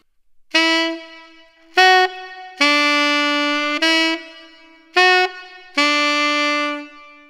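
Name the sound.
saxophone playing second phrase of a song's hook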